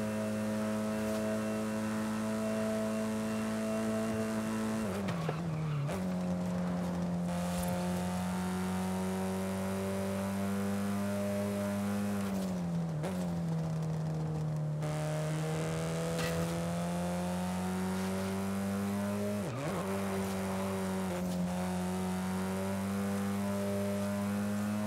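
A 1992 Ford Escort RS Cosworth from Forza Horizon 5 drones steadily at cruising revs, its engine note dipping and recovering with three distinct gear shifts, loud and alone with no talk.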